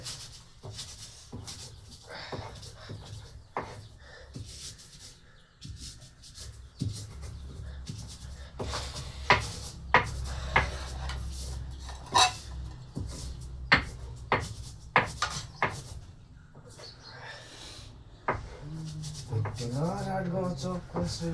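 A knife cuts tomatoes for chatpate, a Nepali street snack: a run of sharp, close taps on a board mixed with shuffling and voices in a busy setting.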